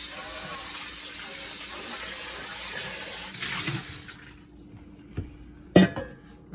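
Tap water runs steadily into a sink as a container is rinsed out while making carrot juice; the stream stops after about four seconds, followed by a few light knocks and clatters.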